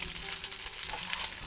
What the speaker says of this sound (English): Now I'm going to go ahead and add the frozen vegetables in.